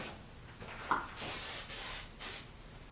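An aerosol can spray-paints a knife maker's vise black in three short bursts of close, loud hissing, preceded by a brief rattling click.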